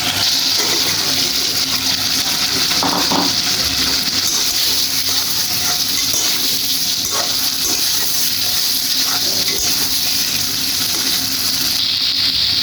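Koi fish pieces dropping into a pan of spiced masala, setting off a loud, dense, continuous sizzle close by, with a few faint knocks and stirring sounds through it.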